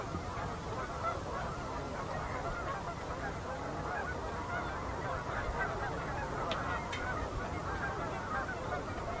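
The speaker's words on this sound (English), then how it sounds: "geese and ducks thronged the fields among the wind turbines." Geese and ducks honk steadily as a dense flock crowds open fields among wind turbines near the Oldman River, the calls overlapping in a continuous distant chorus with no talk.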